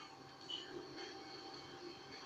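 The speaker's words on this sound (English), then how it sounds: "You're never gonna catch up to that train, I'm telling you." A train rolls past in the video game GTA 5, a steady distant rumble of wheels on rails with faint squeals, heard alone at low level.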